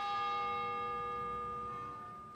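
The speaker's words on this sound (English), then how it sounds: "The courthouse bells chime the noon hour." Courthouse bells chiming noon in Bainbridge, Georgia: a sustained, ringing bell tone hums steadily from a distance, slowly fading toward the end with no voices present.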